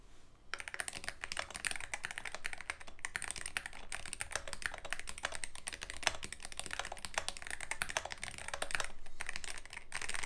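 Fast, steady typing on a MonsGeek magnetic Hall effect keyboard fills the whole stretch, a dense patter of soft clacks with no talking.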